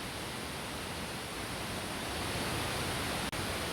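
Mantayupan Falls, the tallest waterfall in Cebu, roars as a steady, dense rush of falling water heard close and loud throughout without any voices.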